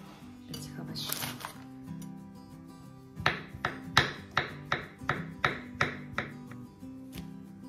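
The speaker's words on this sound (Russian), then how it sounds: "мы приступаем к нарезке этих овощей" A knife taps sharply through boiled, cooled potatoes and carrots cooked in their skins on a board, about a dozen crisp evenly spaced chops in a run, following a brief stretch of someone talking.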